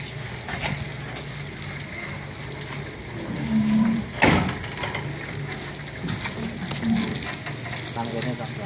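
Short, low cattle moos break through steady background noise and clatter, one near the middle and another a few seconds later, moderately close.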